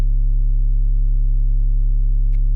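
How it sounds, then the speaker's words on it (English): A deep, steady synthesizer bass tone droning for a couple of seconds, full and heavy, ending abruptly. "So the last sound we have here is the bass,"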